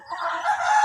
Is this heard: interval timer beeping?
no